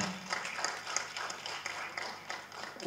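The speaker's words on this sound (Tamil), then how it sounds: "ஒரு தடவை நம்ம எல்லோரும் கைத்தட்டிடுவோம்" Audience clapping at a Tamil film audio and trailer launch for Kuttram Pudhithu, a steady patter of many hands sustained for a few seconds, moderately close and fairly even.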